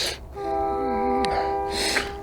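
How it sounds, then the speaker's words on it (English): A train passes in the distance during a countryside walk, its sustained horn-like tone ringing steadily through light background noise, with a brief wavering whistle-like sound in the middle. "I don't see the train, I hear it though."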